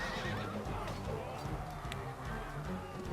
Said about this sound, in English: once you hit with the horse charge, it tends to break up the attack pretty fast